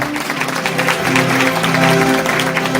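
Audience at a primary school reading festival applauding the children who acted in a fairy tale, a steady wash of many hands clapping close by with a few voices mixed in.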